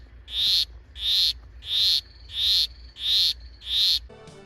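A small dart frog gives six evenly spaced, loud buzzing trills, each lasting about half a second, close up with a quiet background.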